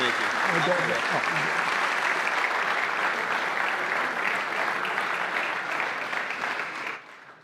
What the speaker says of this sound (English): So one round of applause.